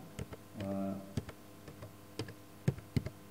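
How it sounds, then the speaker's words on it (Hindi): Typing on a computer keyboard while working in Photoshop, with scattered sharp key clicks at an uneven pace and a brief tonal hum early on, all fairly quiet. "मैं आपको समझाने के लिए टाइप कर रहा हूँ"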